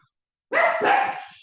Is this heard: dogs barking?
yes